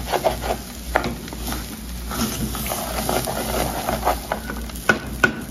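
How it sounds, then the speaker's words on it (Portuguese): Rice fries with garlic and carrot in a pot, a steady close sizzle broken by the scraping and rubbing of stirring. "Já começa logo a sentir o cheirinho do arrozinho fritando o alho assim no fundo"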